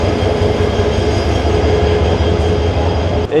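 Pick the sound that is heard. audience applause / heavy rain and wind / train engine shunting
train engine shunting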